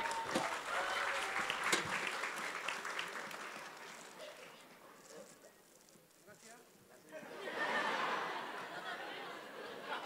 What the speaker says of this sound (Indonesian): Terima kasih Kang Zabir, boleh tepuk tangan.